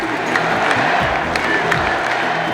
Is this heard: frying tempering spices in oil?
no